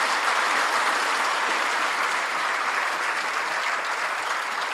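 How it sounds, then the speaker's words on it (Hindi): Steady, dense applause from a seated audience welcoming a guest at a coaching academy in Jaipur, loud and continuous with no pauses, and no voices over it. "इनका एक बार जो है वो फिर अच्छे से तालियां बजा के जो है स्वागत करेंगे आप लोग"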